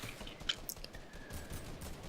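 Rapid laser gunfire in a Fortnite match, a few short bursts and crackles at moderate distance, fairly faint and without talk.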